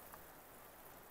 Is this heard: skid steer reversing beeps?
no